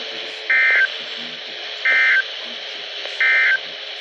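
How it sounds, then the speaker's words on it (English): Three evenly spaced, loud electronic tone bursts, each lasting about a third of a second, sound from a NOAA National Weather Service weather radio during a warning alarm test, over a faint hissing broadcast background. "the National Weather Service has just activated the public warning alarm tone in the test of the"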